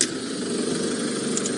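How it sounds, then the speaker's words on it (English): A loud diesel engine on a safari vehicle in the Maasai Mara rumbles steadily and close, holding an even low drone throughout without any voices. "we've got a loud diesel engine that you definitely would have heard start up there"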